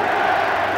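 Football crowd at an England v Georgia World Cup qualifier, a steady, dense roar of many voices filling the stadium, continuous and fairly loud without distinct breaks.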